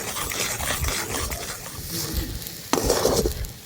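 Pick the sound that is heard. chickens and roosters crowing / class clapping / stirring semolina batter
stirring semolina batter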